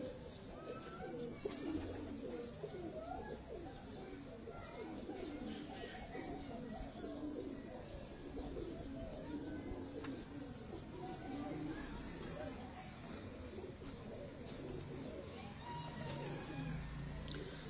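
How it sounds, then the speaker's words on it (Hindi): Golden pigeons coo softly at a distance, repeated low throaty calls with a few chirps among them, while people talk nearby at low volume. "ये भी दोस्तों गोल्डन कबूतर"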